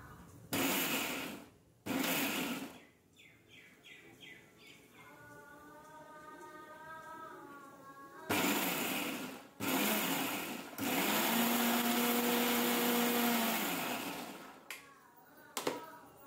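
A mixer grinder grinding ridge gourd chutney whirs in several loud bursts with short pauses between, its motor pitch rising and falling as it runs.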